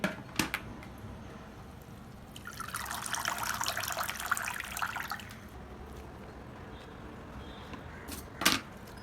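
Water splashes and trickles for a few seconds as fresh coriander leaves are swished and rinsed, with scattered clicks before and after.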